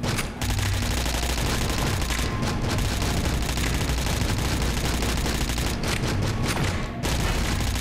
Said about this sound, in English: the SMG is pretty good